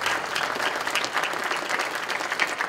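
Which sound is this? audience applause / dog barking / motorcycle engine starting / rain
audience applause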